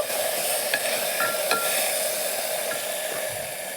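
Spiced masala with turmeric and coriander powder for a beetroot and green pea biryani is stirred in a pan on low heat: a dense, even sizzle continues without a break, with a few light spoon taps and scrapes.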